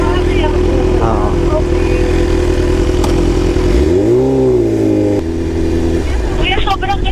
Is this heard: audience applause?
no